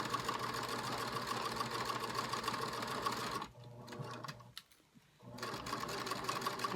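A sewing machine runs steadily, stitching rickrack trim down the edge of a project bag, its close mechanical whir broken by a brief slowdown and pause before it resumes at full speed.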